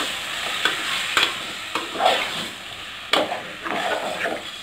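Chicken pieces stirred and frying in a pan for munakkaya (drumstick) chicken curry, steady close sizzle with regular scraping strokes of a spoon against the pan.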